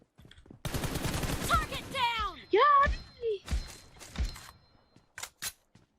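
Rapid bursts of gunfire crackle in a shooter video game, partly buried under someone talking excitedly. Scattered single shots and clicks follow the talk.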